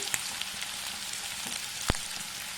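Green chillies and onions fry in a pan on medium flame for a pulao, giving a steady close crackling sizzle with a few sharper pops and no voices.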